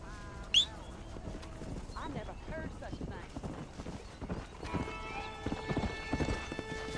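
Horse hooves clip-clop in Red Dead Redemption on PS5, a rhythmic trotting patter mixed with game sounds and music, while someone talks over it.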